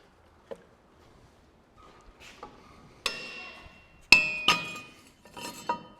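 Metal parts on a Spidertax axle come loose, with a few sharp clinks and ringing metallic strikes spaced irregularly, some louder blows ringing briefly, close and without speech.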